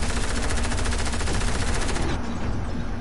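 Rapid automatic gunfire in Fortnite, aimed at a hovering UFO, rattles out in a dense continuous burst for about two seconds and then cuts off, leaving a lower rumble.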